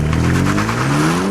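An Alpina D3 diesel and a BMW M3 launching from a standstill at full throttle with traction control off, engines loud and close, a steady rising drone climbing in pitch throughout.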